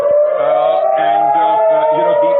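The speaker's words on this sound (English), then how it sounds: "you can hear the air raid sirens going in" A loud, steady air raid siren wails close by, its pitch rising slightly and holding, with no other sounds.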